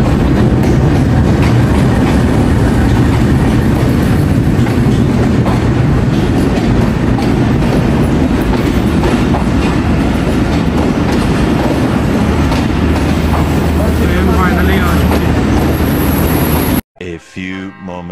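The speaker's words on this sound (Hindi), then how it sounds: "अब ट्रेन आने वाली है" A train arrives at a busy station in Pakistan, rumbling loudly and close with rhythmic wheel clatter and faint squeals, continuous until it cuts off near the end.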